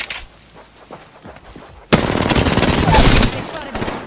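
Heavy automatic gunfire in a shooter video game erupts halfway through, a loud dense burst of rapid shots following quieter scattered shots and faint game sounds.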